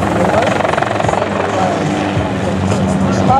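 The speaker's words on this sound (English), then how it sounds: "The helicopter has been called the horse of the modern day aircraft." Helicopter at the NAS Jacksonville air show, a loud close rotor drone with a rapid chopping pulse that steadies into a continuous roar, with no voices.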